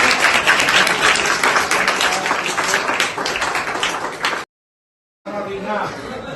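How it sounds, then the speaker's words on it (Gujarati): Loud, dense clapping from a crowd at a young man's birthday celebration in Bavla, broken off by a brief gap of silence before the applause resumes somewhat softer. "તો આપણે તાળી પાડીએ"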